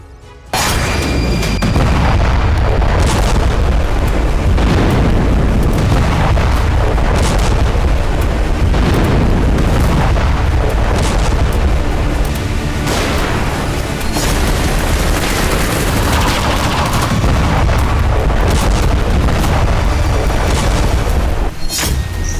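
Loud explosion sound effects in a war news report rumble and boom again and again, heavy bursts landing every second or two over a dense, continuous roar.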